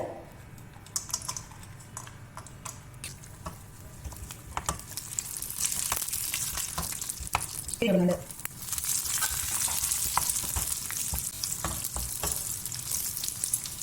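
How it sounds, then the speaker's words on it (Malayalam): Cashews fry in ghee with a continuous sizzling crackle and scattered clicks from stirring, growing louder midway, with a brief tonal knock near the middle and no speech. "അണ്ടി ഇടുന്നുണ്ട്"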